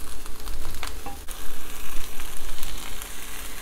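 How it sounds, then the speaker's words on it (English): Hand-torn cabbage sizzling and crackling loudly in a hot wok for a Szechuan stir fry, with continuous frying hiss and occasional stirring scrapes, close up and without talk. "And now we wait, stirring occasionally till the cabbage feels right to your taste."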